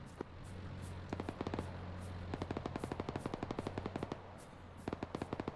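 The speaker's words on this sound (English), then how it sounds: "I can hear an anti-air cannon going off again" Rapid automatic anti-air cannon fire in the military shooter game Arma, several bursts of sharp evenly spaced shots at a fast steady rhythm, separated by short pauses and heard over a constant low engine hum.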